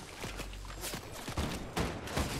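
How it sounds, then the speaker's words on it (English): Video game gunfire comes as a string of sharp shots in quick bursts, some near and punchy, others more distant, spread unevenly through the moment. "I'm just taking a couple shots on him to make him nervous."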